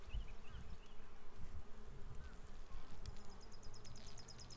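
Honeybees buzz on freshly drawn comb inside a beehive, a continuous low hum that sounds close but fairly quiet, with no talk.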